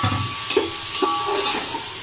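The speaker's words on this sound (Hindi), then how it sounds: "अब मैं इसमें अदरक लहसुन डालूंगी," Crushed ginger and garlic fry in a pan, a steady soft sizzle and hiss with a couple of brief stirring knocks, close by and alone, no voices.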